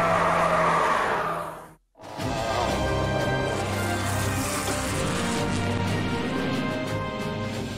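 A prototype car laps the Nürburgring Nordschleife, its engine a sustained, loud roar that briefly cuts out and then returns as a steady, close drone of speed and road noise.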